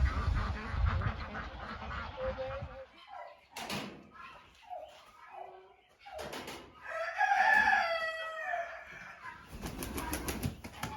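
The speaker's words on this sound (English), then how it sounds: "Oh, ducks." Ducks quack on a farm in scattered, fairly faint bursts, with wings briefly flapping and other fowl calling nearby.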